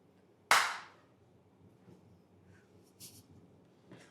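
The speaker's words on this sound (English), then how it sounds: "Just one clap as loud as you can." An audience in a talk brings their hands together in one loud, sharp clap, a sudden burst that fades quickly. Quieter murmurs and small noises follow in the room.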